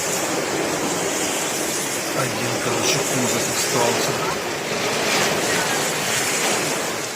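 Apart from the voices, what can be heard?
heavy rain pouring on a parked car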